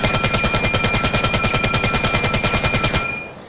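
Rapid, loud automatic gunfire from an AK-12 in the VR shooter Vail, a sustained burst of evenly spaced shots for about three seconds before cutting off.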